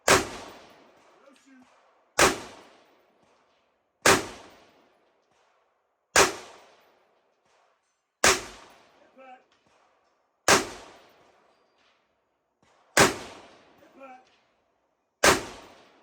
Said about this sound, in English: you'll see me do a lot of shooting, a little bit of hitting